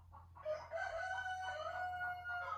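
Chickens cluck and a rooster crows nearby on a farm, a drawn-out call over a faint low background hum.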